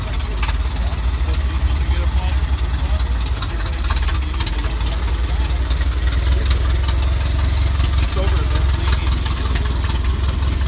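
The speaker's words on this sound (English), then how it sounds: "That is the engine running on that Model T." A 1915 Ford Model T engine runs steadily at close range, its low, bubbling percolating idle continuous and fairly loud throughout, with a rough rumble underneath and some background noise.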